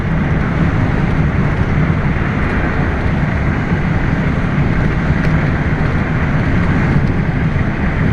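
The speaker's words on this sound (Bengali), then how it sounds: "বাতাস আসতেছে তো" Wind buffets the microphone outdoors in a loud, steady roar that holds for the whole stretch with no one speaking.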